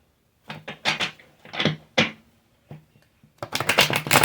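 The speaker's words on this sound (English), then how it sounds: "We are going to finish shuffling this one last time here" Tarot cards being shuffled in several quick riffling bursts, close and crisp, with short pauses between and a longer flurry at the end.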